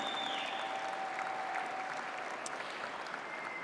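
A large audience at the 2018 Ellis Island Medals of Honor ceremony gives a sustained round of applause, an even, full wash of clapping at moderate level with a faint tone above it.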